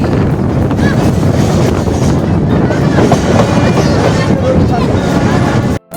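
A crowded local passenger train runs along the rails with a steady, loud rumble and rattling clatter, close to the listener, with wind buffeting throughout and a brief dropout near the end.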